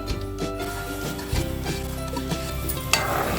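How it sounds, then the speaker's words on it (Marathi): A spoon scrapes and stirs roasted rice semolina into boiled jaggery water in a pan for khantoli, with soft clinks and a faint sizzle beneath, close up and steady. "आता हे चांगलं मिक्स करून घ्यायचं आहे"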